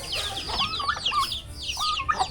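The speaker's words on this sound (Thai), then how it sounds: "ยามแรงมาเสียงเป็ดเสียงไก่ห้องแซ่ๆแล้ว" Chickens clucking in a busy, overlapping chorus, with repeated short calls rising and falling close by, no talking.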